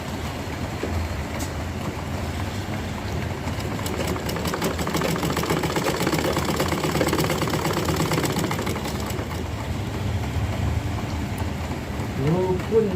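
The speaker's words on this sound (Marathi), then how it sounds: "हे जे कालचा बघाय ना त्याला अशी शिलाई करून घ्यायची" Electric sewing machine running in steady bursts while stitching a cotton underwear piece with a drawstring waist, a continuous mechanical whir with rapid needle clatter, fairly close and even in level throughout.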